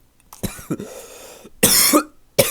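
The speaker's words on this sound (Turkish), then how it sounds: "Öksürdüm az önce." Several sharp, close coughs in short bursts, with a louder, harsher cough near the end and brief quiet gaps between them.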